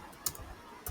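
A few quiet, sharp keystrokes tap on a computer keyboard while code is typed, two distinct clicks close by with a soft low thud, no voices.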